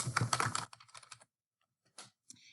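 Short bursts of keyboard typing, a quick flurry of clicks at the start, then scattered single keystrokes with a pause in between, close and moderately quiet with no talking.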